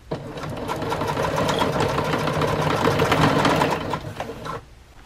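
A sewing machine running a double stitch along a sleeping bag stuff sack, a fast, steady mechanical whir and needle clatter, close up, stopping abruptly near the end.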